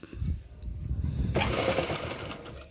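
A sewing machine starts midway and runs steadily, stitching thread piping onto a blouse, after a moment of quieter handling noise.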